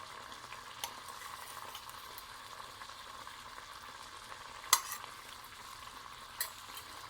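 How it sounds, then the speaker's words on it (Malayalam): Shallow-fried prawns are stirred into a pan of bubbling prawn masala. Quiet, steady sizzling and simmering run throughout, with a few soft spoon clinks and scrapes close by and no talking. "നമുക്കിത് തുറന്നിട്ട് ഇതിലേക്ക് നമ്മൾ ഷാലോ ഫ്രൈ ചെയ്ത് വെച്ചിട്ടുള്ള ചെമ്മീൻ ആഡ് ചെയ്ത് കൊടുക്കാം"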